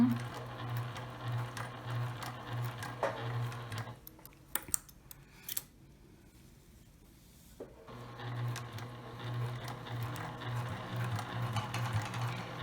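A sewing machine stitching fabric for a homemade face mask, its rapid rhythmic whirr running close by, pausing for a few seconds in the middle with small clicks and handling noises, then starting up again.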